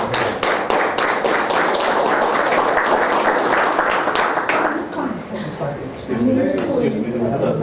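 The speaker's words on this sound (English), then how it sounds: "for that we all applaud him" Board meeting audience applauding a student, steady loud clapping from a full room that dips briefly and picks up again, with a voice speaking over it near the end.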